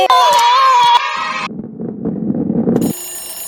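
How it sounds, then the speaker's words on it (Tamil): A mobile phone rings with an incoming call, a loud bright electronic ringtone for about a second and a half, then a noisy stretch of muffled sounds, then the tone starts up again near the end. "யாரும் ஃபோன் பண்றாங்களே, சரி அட்டெண்ட் பண்ணுவோம்"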